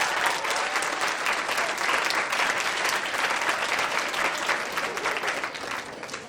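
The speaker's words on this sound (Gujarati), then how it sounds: "બંસી સાહેબને તાળીઓના ગડગડાટ સાથે" An audience at an annual day function claps in sustained, even applause, a dense wash of many hands close and loud, lasting several seconds before tapering slightly.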